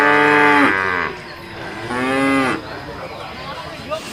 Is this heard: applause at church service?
no